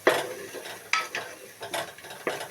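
A potato and fenugreek-leaf curry is stirred in a pan, with several distinct scraping strokes of a spoon against the pan over a soft background sizzle, close and with no voices.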